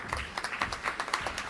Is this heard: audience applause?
yes